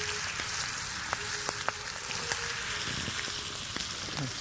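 Fatty bacon frying over an outdoor campfire, a steady close sizzle with scattered sharp pops and crackles throughout, no talking.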